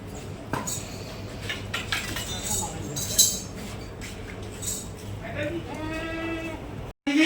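Goats bleat several times on a goat farm, the clearest cries toward the end, amid background chatter and light clinking of metal.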